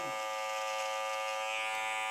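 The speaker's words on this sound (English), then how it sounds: "turn my trimmer on" An electric beard trimmer buzzes steadily and close with a bright, even hum during a barbershop beard grooming, running alone without pauses.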